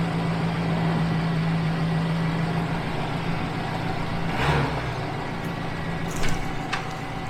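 A car that is not road-legal runs with a steady low engine hum throughout, with a brief clunk midway and a short rattle near the end.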